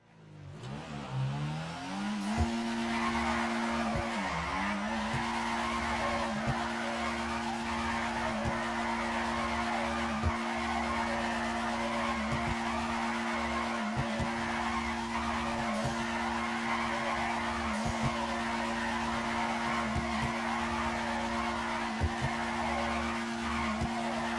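In the video game GTA 5, a car drifts with a sustained, loud tire squeal and skid while a steady engine note drones underneath, broken by brief pitch dips early and faint periodic bumps.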